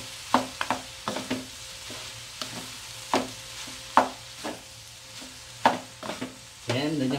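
A spatula stirs rice through hot oil in a pan while frying nasi goreng, giving sharp scraping strokes every second or so over a steady sizzle, close up, with no talking.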